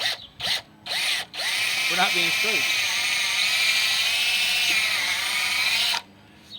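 A power drill with a slightly oversized bit whirs loudly and continuously for several seconds after a few short bursts while installing an awning on a van, with a person speaking briefly at the start.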